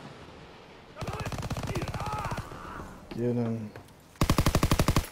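Rapid gunfire from a video game, with two loud bursts of automatic fire separated by a short gap, while players talk excitedly over and between the shots.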